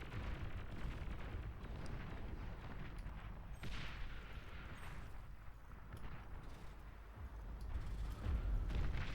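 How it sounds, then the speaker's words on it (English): Artillery exchanges in the real-time strategy game Beyond All Reason, a dense rumble of overlapping distant booms and thuds rolling continuously, fairly faint and building slightly at the end. "Still have the artillery going back and forth between yellow, myself, and Sweezit Fish"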